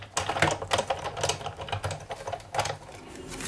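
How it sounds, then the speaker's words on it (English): A Big Shot die-cutting machine is cranked by hand, giving a steady run of close, rapid, irregular clicks and rattles for several seconds with no talking. "I'm just going to run it through the big shot"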